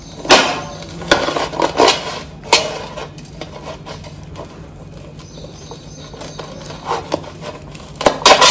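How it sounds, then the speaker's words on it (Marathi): A knife or cutter slices through dry fruit barfi on a hard surface, giving several sharp clacking taps spaced irregularly, fairly close and clear with no talk. "चाकून किंवा कटरनं बर्फी कापून घेऊ शकता"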